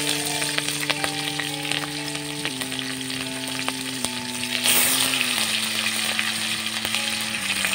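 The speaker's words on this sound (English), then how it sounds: "Add some oil after frying the fish." Steady crackling sizzle of tilapia fish frying in hot oil, close and continuous, with a low droning hum underneath and no voices.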